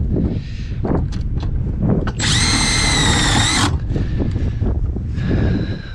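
A power drill drives short 5/16 screws into an inducer motor on a Heil package HVAC unit, with one loud sustained whine of about a second and a half amid clanks and handling noise.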